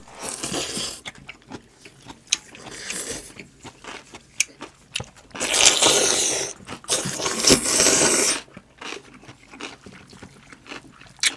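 Close, loud mukbang eating of cold naengmyeon noodles with young radish kimchi, with crisp crunching bites, wet chewing and slurps coming in irregular bursts.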